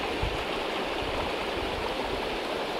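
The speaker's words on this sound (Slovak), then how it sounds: "žbonkot vody" A babbling mountain stream in the Western Tatras gives a steady, full rushing and burbling of water, close and continuous, with no voices.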